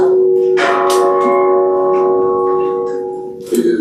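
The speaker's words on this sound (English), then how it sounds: "11 ministers, UN officials, and visionary leaders ring the bell to awaken people's conscience" A large bell rung at the Stockholm Plus 50 conference sounds a resonant strike that hums and slowly decays, followed by a second strike near the end.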